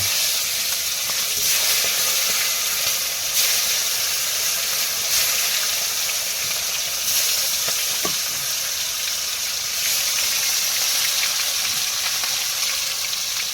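Steady, close sizzling and hissing of Bombay duck (loitta fish) frying in a pan, continuous and even throughout, with no talking.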